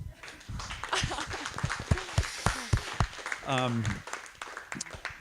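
Participants in an online marketing and executive planning meeting clap, with scattered, uneven claps picked up faintly through microphones while people keep talking over them.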